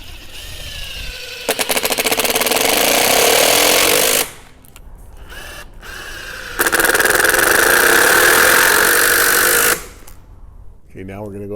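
A power drill drives screws back into a bracket on a Marvin double-hung window in two sustained, loud whirring runs with a short pause between them, then stops.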